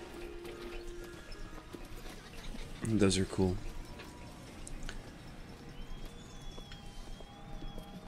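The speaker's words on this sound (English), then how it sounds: "I like these electric horses or whatever." Electric mechanical horses in the video game BioShock Infinite make a brief cluster of hoof clip-clops at mid distance over a steady ambient bed, while a person talks throughout.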